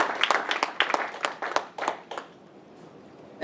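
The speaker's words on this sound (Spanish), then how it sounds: "Denle un aplauso al Señor." Applause from a church congregation during a Sunday Spanish-language sermon, a burst of scattered hand claps lasting about two seconds before fading into quiet room tone.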